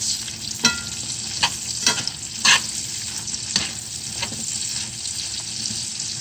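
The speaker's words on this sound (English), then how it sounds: "So this gives you an idea of what our sunchokes look like here in the pan. Mixed in with the purple onion and the olive oil and the butter." Jerusalem artichokes sauté in a pan with purple onion, olive oil and butter, giving a steady close sizzle broken by several sharp scraping stirs of the spoon, with no talking.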